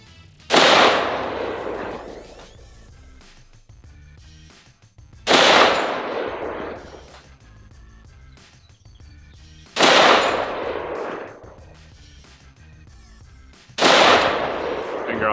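Four loud firearm shots at a shooting range, each a sharp blast about four to five seconds apart with a long decaying tail, fired from a rifle, pistol or shotgun by a beginner shooter.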